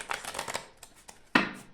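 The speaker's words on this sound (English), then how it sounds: "just mixing the shuffling the cards right now" A deck of oracle cards being shuffled by hand, a quick riffle of soft papery flutters followed by a single sharper slap as the cards settle, close and quiet.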